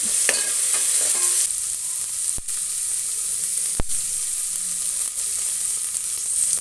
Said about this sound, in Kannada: ಮೊದಲು ಎಣ್ಣೆಯಲ್ಲಿ ಚೆನ್ನಾಗಿ ಫ್ರೈ ಮಾಡ್ಕೋಬೇಕು ಕಾಳನ್ನ